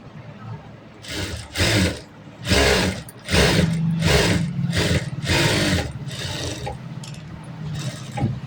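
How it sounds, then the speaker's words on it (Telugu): Domestic sewing machine stitching the marked side seam of a blouse, running in several loud bursts of rapid stitching separated by short pauses, with steady motor buzz through the longer later run. "ఇక్కడ నుంచి ఇక్కడ కూడా సేమ్ ఇట్లా మార్కింగ్ ఉన్న సైడ్ కుట్టుకోవాలి"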